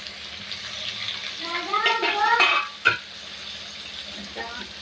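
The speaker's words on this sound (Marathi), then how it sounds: "थोडंसं पाणी पण घालून घेते" Water is poured into a pan of crabs seasoned with turmeric and masala for a Konkan-style crab curry, a brief splashing pour, with someone talking quietly underneath and a clink of a vessel.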